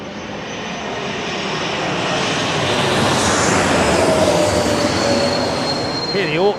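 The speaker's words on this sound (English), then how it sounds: "hear the auto throttles kicking in there" Jet airliner engines swell into a broad, steady roar as the autothrottles advance on approach to runway 18R, the Polderbaan, in the Netherlands, with a faint thin whine riding over the rumble.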